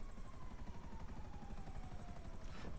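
Helicopter in Grand Theft Auto hovers to pick up a package, its rotor producing a steady, loud, rapidly chopping drone that fills the scene without pause, with no voices.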